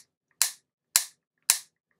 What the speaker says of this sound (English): I have my old Franz metronome here, and I have it set on 108